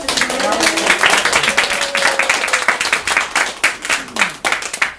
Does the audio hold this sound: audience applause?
yes